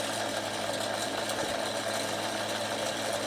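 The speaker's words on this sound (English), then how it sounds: "So that is winding, and I'm going to zoom in. You can see the bobbin filling up." A sewing machine winds a bobbin, its motor running in a steady, continuous whir close to the microphone with a constant mechanical hum and no talking.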